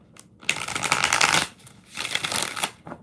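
Tarot cards being shuffled in two quick riffling bursts, crisp and close, separated by a brief pause, with no talk.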